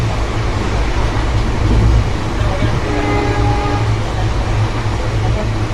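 Inside a fairly empty passenger coach on a train journey from Bengaluru toward Goa, a loud, continuous rumble and rattle of the running train fills the whole stretch, steady and close.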